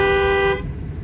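A driving-school car sounds its horn at a blind turn, a single loud steady toot lasting about half a second, then road and engine noise continue.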